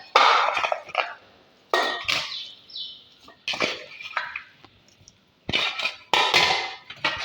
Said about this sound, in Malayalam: ഇത് ആദ്യം നമുക്കിതൊരു പാത്രത്തിലേക്ക് ഇടാം